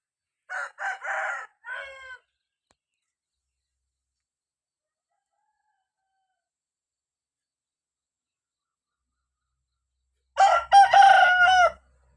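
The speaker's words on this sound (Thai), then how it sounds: "ได้ยินเสียงไก่ขันบ่พี่น้อง" A rooster crows twice on a foggy rural morning: one loud, clear cock-a-doodle-doo at the start, then a long stretch of near silence before a second full crow near the end.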